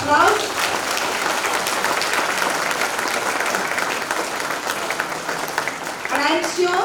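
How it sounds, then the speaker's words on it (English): Applause from an audience of children welcoming invited authors at a school literature conclave, a steady dense round of clapping lasting several seconds with some voices rising at the start and end. "let us welcome today's invitees with a huge round of applause"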